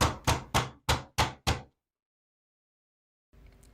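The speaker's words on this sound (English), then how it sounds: "I do like a rubber mallet to help me persuade it." A rubber mallet strikes floor planks six times in quick, even succession, each a sharp close thud, followed by silence and faint handling noise while the bathroom flooring is tapped into place.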